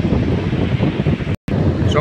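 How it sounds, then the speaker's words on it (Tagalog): Strong seaside wind buffeting the microphone at a surfing area with ocean surf, a continuous loud rushing roar broken by a brief dropout. "ang ganda po ng hangin dito guys"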